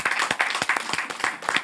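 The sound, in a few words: audience applause for orchestra leader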